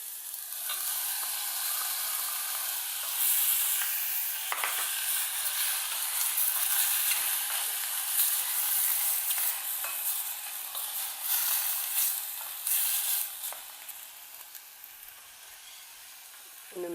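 Mushrooms for a crêpe filling frying in a pan, a soft continuous sizzle and hiss with occasional stirring scrapes, fairly quiet and steady with no talking.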